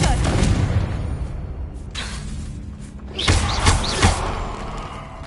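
A Confringo spell blast in the video game Hogwarts Legacy lands as a few dull thumps and short broadband bursts over a steady rumbling game backdrop, with the strongest impacts clustered near the end.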